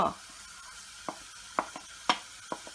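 Pork cooking in a pan for a Thai spicy vermicelli salad makes a low background sizzle, broken by several sharp crackles and spatters spaced irregularly across a short stretch.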